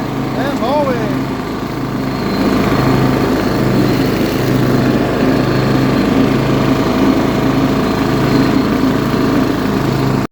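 The small engine of a Toro 12-32 riding mower runs steadily during a test drive, loud and close with a constant droning hum throughout.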